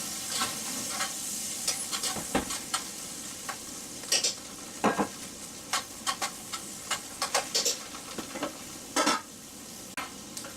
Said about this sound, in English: So I'm going to add all of that to my butter. And we're going to saute that for a little while.